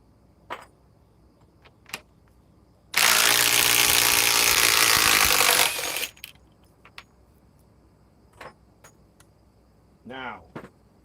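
A Metabo triple hammer impact driver drives a bolt in one loud, dense burst of about three seconds, framed by scattered clinks and handling noises, with a short voice near the end.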